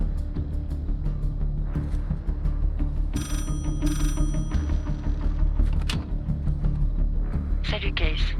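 In Call of Duty Black Ops 6, a telephone rings with repeated electronic trilling bursts over a dense game soundtrack and background rumble, mid-loud and recurring several times.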